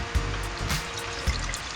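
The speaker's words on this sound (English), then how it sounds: "And now you add your milk." Milk poured little by little into a roux in a pan on the heat for homemade mac and cheese, giving a soft, close trickle with faint clinks of the pan.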